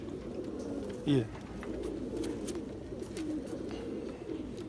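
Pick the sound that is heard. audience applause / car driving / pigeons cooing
pigeons cooing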